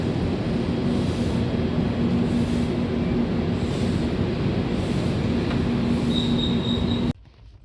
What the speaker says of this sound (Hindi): चलिए अब ट्रेन आगे निकल चुकी है